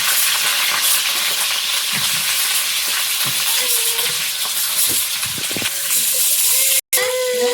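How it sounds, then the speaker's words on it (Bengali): Potatoes fry in a pan at an outdoor year-end picnic cook in the Sundarbans, giving a steady, loud, close sizzle throughout, with occasional scrapes and faint voices behind it. "আলুটা ভালো করে প্রথমে ভাজবো"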